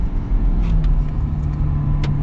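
A 2026 Ford F-350 STX High Output pickup accelerating, heard as a loud, close, steady low engine drone with a few faint clicks above it and no speech.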